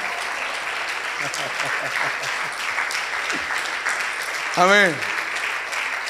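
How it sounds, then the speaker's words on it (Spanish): A church congregation breaks into sustained applause and cheering in celebration, a broad wash of clapping that fills the room while a voice speaks over it and a loud exclamation rises near the end. "¿Cuántos lo celebran con aplausos de victoria?"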